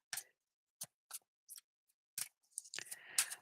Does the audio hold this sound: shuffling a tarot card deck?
yes